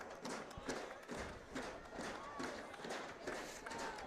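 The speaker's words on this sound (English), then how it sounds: "Beaver Dam crowd making some noise here." A Beaver Dam crowd at a high school football game against Monroe roars in a distant, swelling wash of cheering and noise. Thumps and rumbles come through at low volume, and a commentator talks over it.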